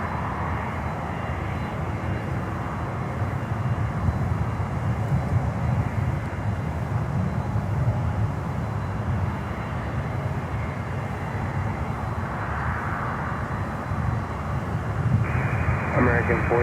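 Cargo jets, including Boeing 767s, at Miami airport. A broad, continuous roar of jet engines runs throughout at moderate distance, under intermittent radio chatter and talk.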